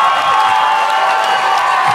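Audience at a live stand-up comedy show in Montréal applauding and cheering, a dense, steady wash of clapping with scattered whoops running loud throughout.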